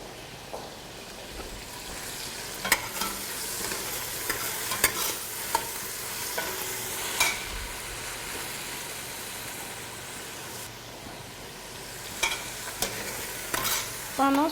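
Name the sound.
stirring boudou frying in a pan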